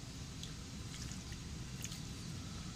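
Fungicide-mixed water is poured onto the soil of a potted adenium plant, giving a soft, steady trickle and soak with faint drips, heard close but quiet, with no talking.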